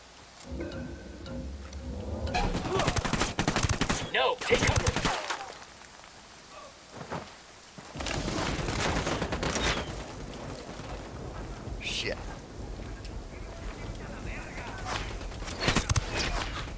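Bursts of gunfire from a Ghost Recon Wildlands firefight, loud sharp volleys cutting in and out over a noisy background, with a few spaced shots later; voices talk over parts of it.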